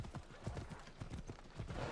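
A horse gallops in Assassin's Creed Odyssey, rapid rhythmic hoofbeats thudding steadily and fairly faintly over a short stretch.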